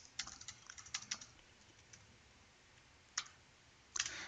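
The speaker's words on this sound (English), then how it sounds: "Now let's type in pi buff ss" Command being typed on a computer keyboard at a prompt, a quick run of light key clicks, a pause, then a few isolated taps and a final keystroke, faint and close.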